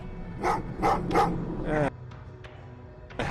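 Dog in the Terminator: Resistance video game barking, three sharp barks in a steady rhythm followed by a whimpering whine, fairly loud over a low background hum.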